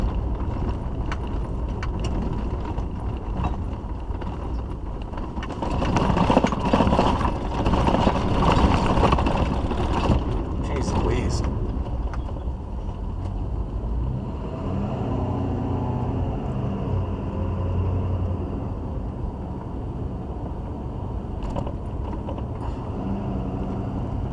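A pickup truck engine rumbles steadily throughout, swelling louder for a few seconds midway, with faint rattles and jingling inside the cab.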